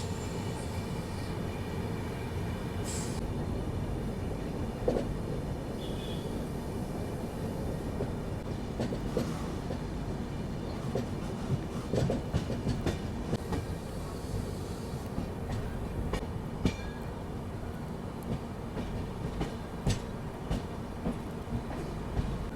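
Shatabdi Express between New Delhi and Ajmer, heard from inside an AC chair class coach: a steady rumbling roll with rhythmic clickety-clack of wheels over rail joints and occasional faint squeals, continuous throughout.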